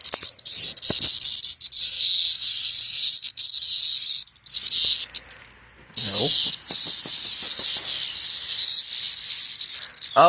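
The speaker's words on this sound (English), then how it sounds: "It's like a handful of male cicadas" A handful of male cicadas buzz loudly and continuously close by, a dense high-pitched drone with brief dips, while someone talks excitedly over it.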